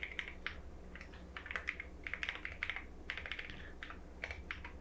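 Quick, uneven bursts of typing on a computer keyboard while code is written for a rhythm game, steady clicking at close range with short pauses between runs of keystrokes.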